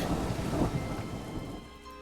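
Rain and rolling thunder from the video game Futureport '82, a low rumble over steady rain patter that fades toward the end, with no voices.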